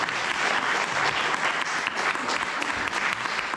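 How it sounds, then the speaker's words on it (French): An audience at a presentation event applauds steadily, dense clapping from a roomful of people sustained at even strength throughout. "on peut les applaudir"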